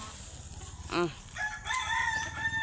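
A rooster crows once, a rising harmonic call close by, followed by softer bird-like clucking calls against steady background noise.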